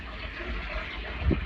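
Liquid RSM nitrogen fertilizer pouring through a small pipe into a tank beside a Case 474 tractor, a steady rushing, gushing flow throughout with a brief thump near the end.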